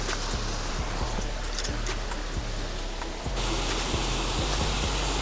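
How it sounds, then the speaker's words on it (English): Waterfalls roar steadily down a rocky urban creek, a loud, dense, unbroken rush of white water close by with no voices over it. "It's super loud with the waterfalls."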